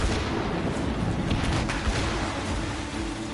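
Ship cannons firing in Assassin's Creed Rogue during a naval battle, a dense, continuous rumble of heavy blasts with a few sharper reports standing out, steady and loud throughout.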